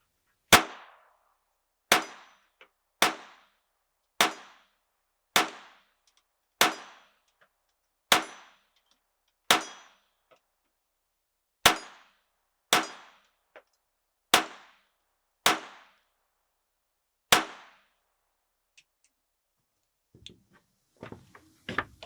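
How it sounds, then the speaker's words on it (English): Suppressed .22 rifle shots strike a steel gong: about a dozen sharp metallic clangs at a steady pace of roughly one per second or so, each ringing briefly and fading, followed by faint handling noises. "let's see if I can hit that damn gong."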